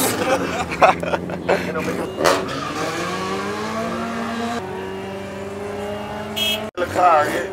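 Toyota car racing at Vernamfield track, engines revving and droning as cars pass with rising and falling pitch, fairly loud and close, with brief bursts of chatter and bangs near the end.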